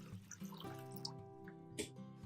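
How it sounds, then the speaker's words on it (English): Water runs into a clean bowl as it is filled to cover eggs, a soft trickling and dripping flow, faint and close, with no talk. "prepare a clean bowl and fill it with enough water to completely submerge the eggs"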